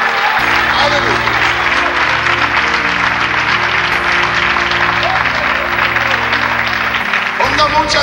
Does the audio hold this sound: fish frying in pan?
no